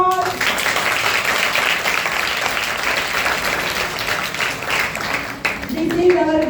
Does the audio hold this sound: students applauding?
yes